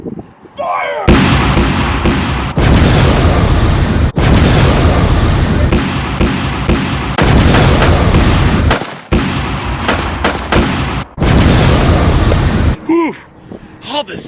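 Civil War reenactors firing a volley of guns, loud repeated booming blasts in quick succession that dominate the scene, with a brief spoken command at the start.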